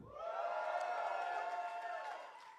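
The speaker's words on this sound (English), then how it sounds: "I like this crowd. They're loud." Loud, sustained audience cheering and whooping from a live stage-show crowd, a dense roar of many voices holding steady for a couple of seconds before tapering slightly.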